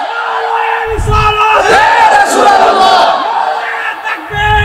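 A large religious gathering chanting the takbir in unison, a loud sustained roar of many voices near the microphone, preceded and followed by a single voice speaking.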